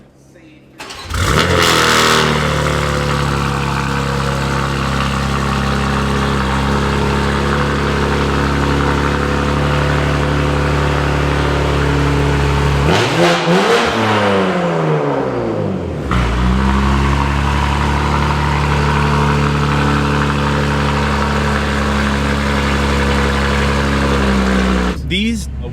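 BMW G87 M2 exhaust starting up and revving repeatedly, loud and close, with a dip in revs midway before climbing again; voices are heard at times.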